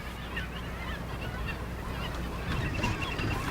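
Ducks honking and calling over a steady outdoor background, several calls clustering toward the end.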